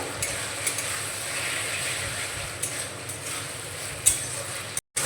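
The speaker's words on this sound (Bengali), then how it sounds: "দিচ্ছি হাফ চামচ মতো আদা রসুন বাটা, ভালো করে মিশিয়ে নেব।" A spoon stirs ginger-garlic paste into tomato, soy and chilli sauces in a pan, giving a soft continuous sizzle with light scraping and occasional clicks, briefly cut off near the end.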